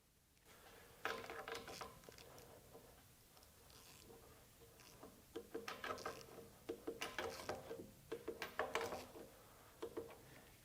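A Milwaukee M12 Fuel cordless ratchet torques bolts, producing faint, close clusters of quick mechanical clicks and whirs that come in irregular bursts, growing busier toward the end.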